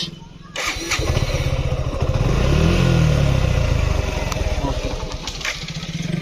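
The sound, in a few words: Suzuki motorcycle engine self-starting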